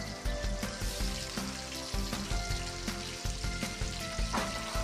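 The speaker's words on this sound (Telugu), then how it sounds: "టమాటాలు వేసిన తర్వాత కూడా కలుపుతో ఫ్రై చేసుకోవాలి" Green chillies and chopped tomatoes frying in oil for a coriander chutney, a dense bubbling sizzle with pulsing stirs and soft knocks of the utensil against the pan, close and steady without speech.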